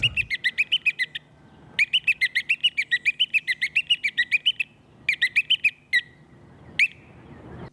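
A bird chirps in rapid, evenly spaced bursts of high, sharp notes, pausing briefly between phrases, clear and close against a quiet background.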